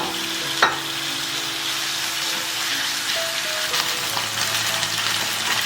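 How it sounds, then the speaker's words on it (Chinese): Chicken pieces pan-frying in a little hot oil in a flat skillet give off a loud, steady, close sizzle with a brief clatter near the start and no voices. "油温升高了，把鸡肉放进来煎。"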